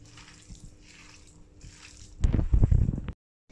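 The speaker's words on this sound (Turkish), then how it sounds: "Şimdi üstüne şöyle suya koydum ve güzelce yıkadım" Fresh green beans being washed by hand in a bowl of water: soft sloshing and dripping at first, then a louder burst of splashing and squishing near the end before it cuts off.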